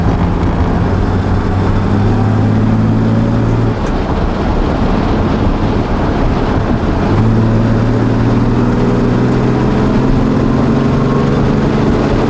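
Engine of a 1968 2+2 car with a 3-speed gearbox, heard from inside while driving: a loud, steady droning rumble throughout, briefly shifting in tone midway before settling back.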